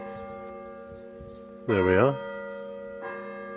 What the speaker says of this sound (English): The church bell marking the half hour